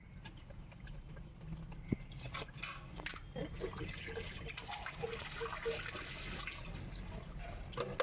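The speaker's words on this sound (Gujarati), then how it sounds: "અમારે જોવા બે છોકરા પાણી ભરે." Water trickles and splashes faintly as two children fill containers outdoors, a soft running flow under low background noise and occasional distant sounds.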